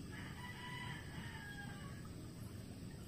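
A rooster crows faintly in the distance, a drawn-out call over a low steady background hum.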